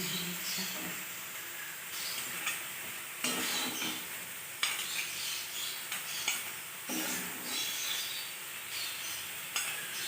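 Vegetable stalks being stirred with turmeric and a little sugar in a pan, giving intermittent scraping and stirring strokes over a soft steady sizzle, close and moderately quiet, with no talking.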